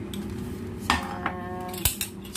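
A spoon scrapes and taps against red dragon fruit flesh and a dish, with a few sharp clinks spaced apart over a faint background hum.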